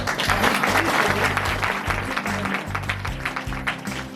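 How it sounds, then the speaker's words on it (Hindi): Guests at a wedding engagement ceremony clapping together, a dense, continuous round of applause close by with some voices mixed in and a low rhythmic music bed underneath. "चलो सब लोग ताली बजा देंगे"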